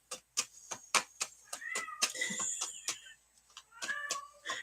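A cat meows repeatedly, a quick run of short cries followed by longer drawn-out wails, close and fairly loud, with no talking.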